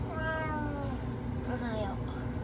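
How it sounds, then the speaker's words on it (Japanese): An 11-year-old Japanese cat with eyelid inflammation and reduced liver function gives two meows, one early and one later, fairly close, over a low indoor background hum with a person's voice nearby. "日本猫のこまぎちちゃんです"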